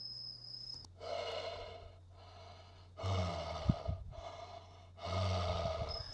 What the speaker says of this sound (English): some crazy mouth breather that calls me every once in a while